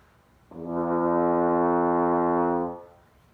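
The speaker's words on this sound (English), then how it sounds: "If you buzz slow," A single low brass note, held steadily for about two seconds with a slightly buzzy tone, then fading out, alone and close.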